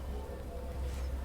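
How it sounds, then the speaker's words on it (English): Steady rain falls in the video game Enshrouded, a continuous soft hiss with low rumble beneath, even and unbroken with no distinct drops standing out. "And it's raining."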